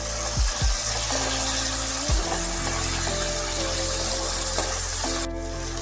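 Fried flat beans dropped into a sizzling pan of cooking vegetables, with a constant close frying hiss, a few soft thuds as they land and a short sharp spurt of sizzle near the end.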